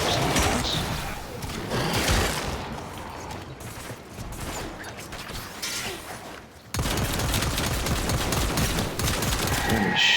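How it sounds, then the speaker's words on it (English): Rapid, sustained gunfire rattles in the Warframe game, loud, dense bursts of shots with mechanical clatter, briefly easing before resuming just as heavy. "Let me shoot them a little"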